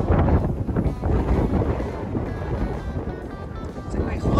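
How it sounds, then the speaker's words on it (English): Strong wind buffets and rumbles against the microphone in continuous gusts on a farm, with faint talking mixed in underneath. "it's windy out today, Oaks."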